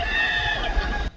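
Farm chickens cluck and call together as the flock heads out from foraging in the dirt, a continuous close chorus of bird voices.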